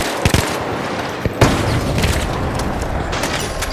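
Frag grenade blast in The FINALS on Xbox Series X, a loud boom amid a dense wash of gunfire and crackling debris.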